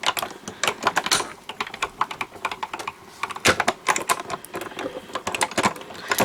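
A Spellbinders embossing machine feeds a 3D embossing folder through, giving close, rapid, irregular clicking and ticking that runs steadily throughout.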